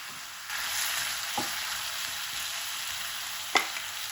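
Chicken shawarma filling fries in a covered pan on low, steamy heat, giving a soft, even sizzle throughout, broken by two short clinks of metal, one near the middle and one near the end.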